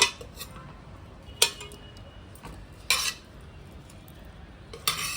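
Mutton pieces being layered into a Kolkata-style biryani pot, four distinct clinks and scrapes of a metal spoon against the pot over a faint background hiss, close and quiet with no talk.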